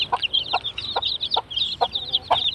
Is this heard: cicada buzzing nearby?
no